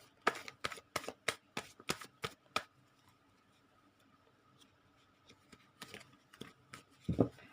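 A deck of cards is shuffled for a tarot-style card reading, a quick series of sharp riffling snaps up close, then a pause and a few softer card taps and slides.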